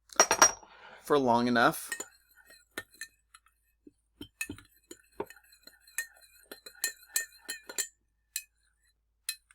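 A metal spoon stirs sugar into water in a glass, giving a quick run of close, bright clinks against the glass, then sparse, lighter taps; a brief voice is heard near the start.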